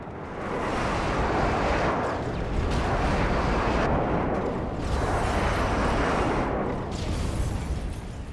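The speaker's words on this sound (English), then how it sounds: "Airstrike on the way." Airstrike explosions land in a team deathmatch shooter game on the Village map as a run of heavy, rumbling booms that roll and swell in waves, loud and continuous, with no talk over them.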